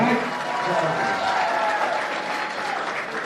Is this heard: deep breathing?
no